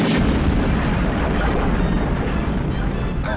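A loud blast booms in a Transformers cartoon, opening with a sharp burst and then rolling into a sustained, heavy roar of rumbling debris and noise that lasts several seconds.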